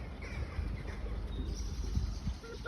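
Crows caw beside the Trent and Mersey Canal, their hoarse calls faint and somewhat distant over a low rumbling background of wind or water, with no talking.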